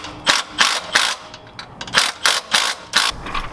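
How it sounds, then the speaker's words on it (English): Socket wrench ratcheting a nylon nut tight during a lift kit install on a Lexus GX470, a series of close, crisp clicking bursts in an uneven rhythm with short pauses between strokes. "I'm gonna go ahead and tighten it with a socket on top."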